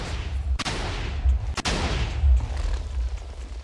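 Cannon nuke shots fire in a video game, two sharp, loud blasts about a second apart, each with a booming low rumble that rolls on between and after them, and no talking.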